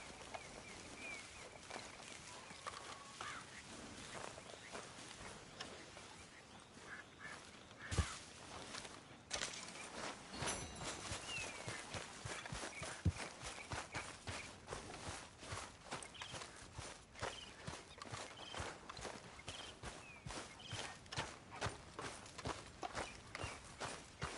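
Horse hooves clip-clopping in the Red Dead Redemption 2 video game, a steady run of close, even footfalls lasting throughout, with ambient outdoor noise and a few sharper knocks in the middle; no talking.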